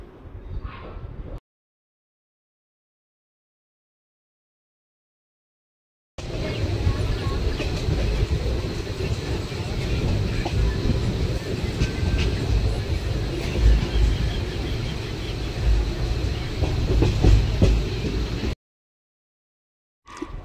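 A passenger train runs along the rails past green fields toward Guntur railway station, giving a steady, loud, continuous rumble for about twelve seconds, with short silent gaps before and after.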